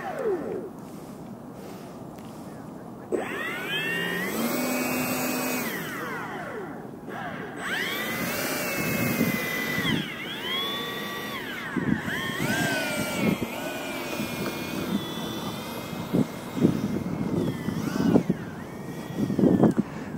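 A Freewing MiG-21 RC jet's electric ducted fan runs on the ground before its first flight, a loud whining drone that rises and falls in pitch through several spool-ups, with faint voices in the background.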